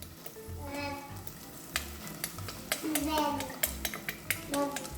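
Fish sauce splashed into a hot pan of frying chicken wings and golden garlic on high heat, giving a steady close sizzle with stirring scrapes and clinks of utensils against the pan.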